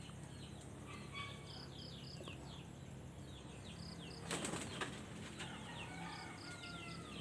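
Pigeons are released from a loft, their wings giving a burst of flapping midway through as they lift off. Quiet chirps and clucks come from other birds against a faint rural background.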